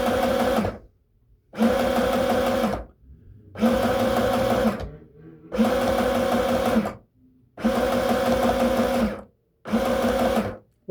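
A sewing machine runs in five or six loud, steady bursts while stitching a red cotton skirt, pausing briefly between runs as the fabric is fed by hand.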